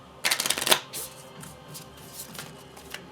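Board game cards being shuffled during a Kingdom Death Monster session, a quick riffle of dense papery flutters for about half a second, then a few softer separate card slaps and settling taps, close and clear.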